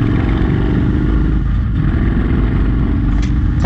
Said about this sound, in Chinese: 有了其他骑士轰隆隆的排气管声浪